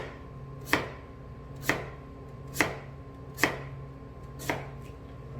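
Five crisp knife strokes through radish onto a cutting board, evenly spaced about a second apart, close and clear with no talking.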